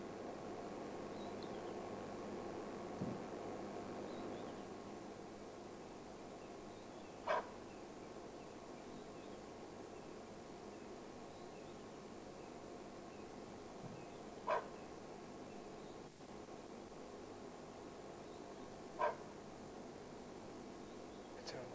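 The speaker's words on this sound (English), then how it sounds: "There's a kudu or something in here that's just given the alarm call." Kudu alarm calls in the bush during a leopard hunt: three short, sharp barks spaced several seconds apart, fairly faint over a quiet hiss, with soft voices murmuring at times.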